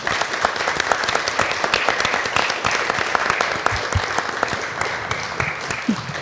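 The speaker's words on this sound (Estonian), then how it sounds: "et me saaks sulle aplodeerida" An audience at a book launch applauds steadily, a dense wash of many hands clapping at an even level from start to finish, with no break in the sound.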